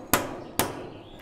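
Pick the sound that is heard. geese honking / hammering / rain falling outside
hammering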